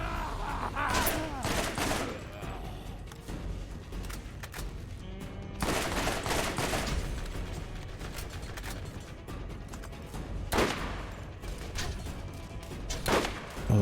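Enemy gunfire in the video game Borderlands: dense, loud volleys of rapid shots and crackling bursts that swell and fade in waves over a constant noisy background, with several especially sharp clusters standing out.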